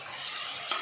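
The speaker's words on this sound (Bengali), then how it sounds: "ভালো করে কষিয়ে দেব।" Cumin, chilli, turmeric, salt and tomato masala frying in a pan, giving a steady close sizzle, with a brief scrape of the stirring spoon near the end.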